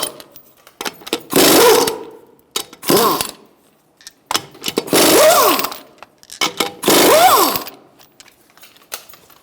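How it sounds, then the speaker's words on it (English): An impact wrench with a 21mm socket removes the front wheel of a 2012-2017 Hyundai Accent. The close, loud whirring bursts repeat four times, each about a second long with a rising-falling pitch, separated by short quiet gaps. "Using a 21mm socket, I'm going to take off the front wheel."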